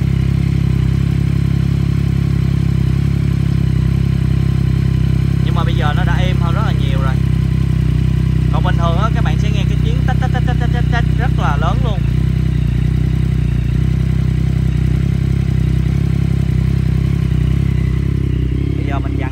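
A 2022 Yamaha MT-09 motorcycle engine runs at a steady idle with a faint mechanical rattle, while someone talks briefly over it partway through.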